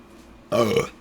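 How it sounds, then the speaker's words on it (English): A single short, loud, close burp that lasts about half a second and follows a brief quiet lead-in. "Oh, thank God, it was just a burp."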